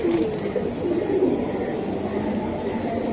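Silver Giribaj pigeons coo close by in low, soft, continuous murmurs over a busy, crowded background.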